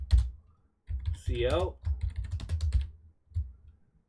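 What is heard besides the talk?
typing on a computer keyboard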